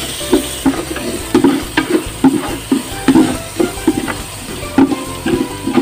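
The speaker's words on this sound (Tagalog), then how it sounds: "Ilagay na natin tong ating luya mga kailyan. Ayan. Gisa-gisa lang natin." Ginger sautéing in oil for arroz caldo gives a steady sizzle broken by rhythmic scraping and clinking as it is stirred in the pan, close and clear with no talk over it.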